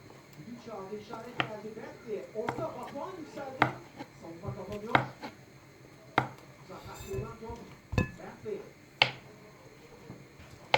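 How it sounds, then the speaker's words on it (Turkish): A knife slices a banana into medium-thin rounds on a cutting board, giving a series of sharp, irregular chopping taps close by. A person talks over the cuts throughout. "İnce ince çok da ince olmayan çok da kalın olmayan bir muz doğrayalım"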